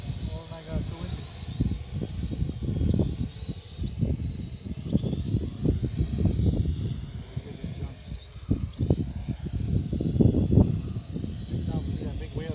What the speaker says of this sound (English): Oh my god, so windy.